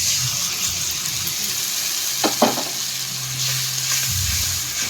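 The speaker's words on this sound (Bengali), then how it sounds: "পেঁয়াজটা লাল লাল করে ভাজা হয়ে গেছে দিয়ে দিচ্ছি মশলাটা" A spice paste with green chilli paste goes into onions fried reddish-brown in a pan for an eggplant, potato and bhetki fish curry. It gives a steady, close sizzle with a brief clatter of stirring midway and a low background hum.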